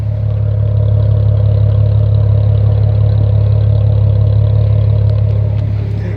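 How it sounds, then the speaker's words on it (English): A 2015 Nissan 370Z with aftermarket exhaust and catalytic converters idles steadily up close, a deep, even rumble holding throughout with no voices. "Now this one has aftermarket exhaust and catalytic converters. So I just want you to sit here and listen to this beauty real fast."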